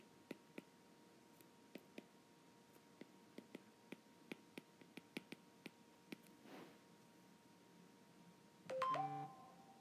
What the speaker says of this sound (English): Sorry about that, my phone went off.